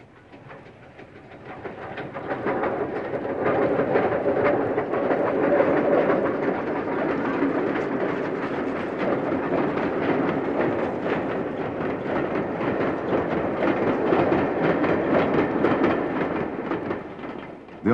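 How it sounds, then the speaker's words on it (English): A British Railways Austerity 2-10-0 steam locomotive runs steadily past, a broad rumbling rush with faint rhythmic wheel clatter that builds in over the first couple of seconds and then holds at a fairly even, moderately loud level. "The Austerity 210s worked in Scotland, as seen here at Grangemouth"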